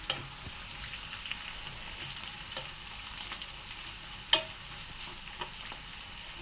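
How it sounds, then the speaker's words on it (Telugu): Curry leaves frying in oil give a low, steady sizzle throughout, with a few faint stirring scrapes and one sharper clink near the middle. "కొంచెం కరివేపాకు కూడా వేస్తాను. వేగాలి చక్కగా."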